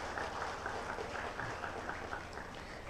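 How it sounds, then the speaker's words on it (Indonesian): Steady applause from a crowd at a political party national meeting, even and sustained throughout, with no voices rising above it. "Kasih tepuk tangan untuk ketua pimpinan DPP."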